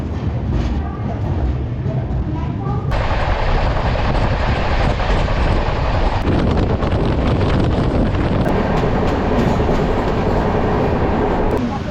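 A train rumbles loudly through Pune Junction railway station with steady rail noise and clatter, broad roaring noise throughout, and a shift in intensity partway through.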